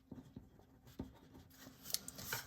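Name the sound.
writing on a tarot card set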